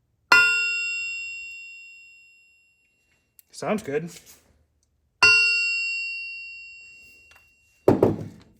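A lead mallet taps the front of a Triumph Spitfire crankshaft twice, each strike giving a clear, bell-like ring that decays slowly over about two seconds. Brief speech falls between the strikes.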